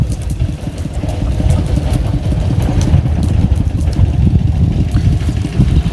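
A farm tractor engine runs nearby with a steady, rough, low chugging idle and light mechanical clatter, continuous throughout.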